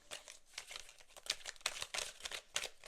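A deck of tarot cards is cut and shuffled by hand, giving a quick series of soft, close crinkling and papery rustles with no voices.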